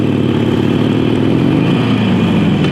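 Steady, loud engine drone from a 2019 Harley-Davidson Iron 883 motorcycle being ridden, a continuous close rumble with constant wind noise and no break.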